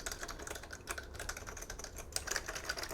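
Fingers type quickly on an Amiga 3000 computer keyboard, a dense run of close, crisp key clicks with no talking over them.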